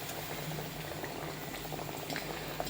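Wheat flour biscuits fry in oil on a low flame, giving a continuous dense bubbling fizz, close and steady, with no voices.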